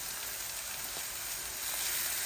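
Mung dal tipped into a pan of frying garlic and onion, giving a dense, even hiss of sizzling that holds steady and close for the whole stretch, with no voices.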